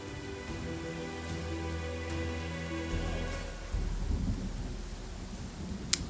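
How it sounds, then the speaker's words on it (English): Steady heavy downpour in the video game Pathfinder Kingmaker, a dense continuous hiss of pouring rain with low rumbling thunder beneath and a faint musical drone, ending with a sharp crackle. "the heavy rain affects things, and it's absolutely pouring it down"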